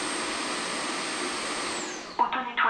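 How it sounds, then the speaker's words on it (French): A Roborock Flexi Lite wet vacuum's docking station hisses with a steady airy blowing while drying its brush, close and even, then near the end a synthesized voice prompt speaks over it as the hiss fades. "on entend tout de même toujours un petit sifflement, là, un souffle. C'est le séchage de la brosse qui va durer donc 30 minutes"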